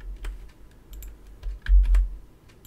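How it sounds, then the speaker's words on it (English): Typing on a computer keyboard, close and moderately loud, a quick uneven patter of key clicks ending in a couple of heavier presses, with no talking. "I think I can just type it in there."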